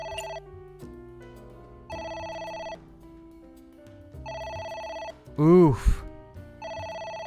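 An electronic telephone ringer trills in repeated bursts with short gaps between them, clear and fairly close, and a man briefly exclaims partway through.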